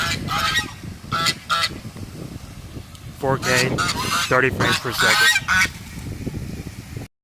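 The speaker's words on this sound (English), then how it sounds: "About to get attacked by some geese." Geese honk loudly and repeatedly nearby, a noisy cluster of harsh calls, with someone speaking briefly at the start.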